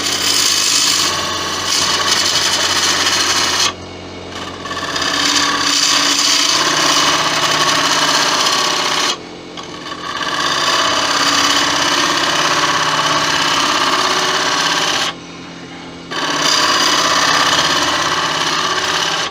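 A woodturning gouge is ground on a bench grinder in a workshop, a steady loud grinding whine with a motor hum beneath, broken by three short pauses as the tool is lifted off the wheel.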